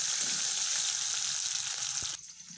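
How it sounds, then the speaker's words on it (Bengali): Onions and green chilies sizzle hard in mustard oil with panch phoron while being stirred, a loud steady frying hiss that drops sharply in the final half-second. "ভালো মতো নাড়াচাড়া করে পেঁয়াজটা ভাজা ভাজা করে নিচ্ছি।"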